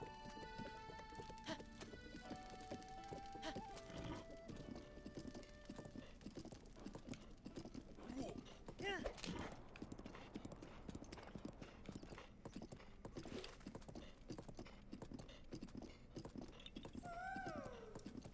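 Hooves clip-clop in a steady rhythm in The Legend of Zelda: Breath of the Wild, joined by a horse's whinny and snorts, with game music tones and chimes playing alongside.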